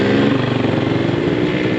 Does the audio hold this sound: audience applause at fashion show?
no